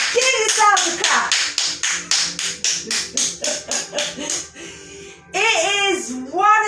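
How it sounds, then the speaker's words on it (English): Girls in a family yoga session clap their hands in a quick, even run of sharp claps. The claps thin out toward the end, and excited voices and laughter come in after them. "Give yourself a clap."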